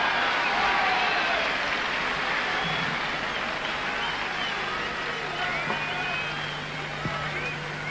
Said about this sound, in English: a very appreciative crowd here at the changeover there, all chanting Steffi, Steffi